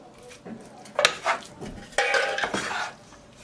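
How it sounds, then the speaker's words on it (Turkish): A spoon stirs rice pilaf in a metal pot with several sharp clinks and scrapes in short bursts, close and fairly loud, with no talking. "Şimdi pilavı da şöyle bir karıştırayım."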